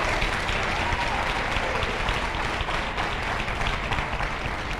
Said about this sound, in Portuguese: Você está aplaudindo